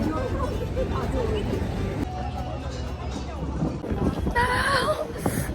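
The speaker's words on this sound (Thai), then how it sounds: "ลมแรงมาก" Strong wind buffets the microphone outdoors on a gray, overcast day in Korea, a continuous rumbling roar with gusts swelling louder toward the end, while distant crowd chatter and a voice sit beneath it.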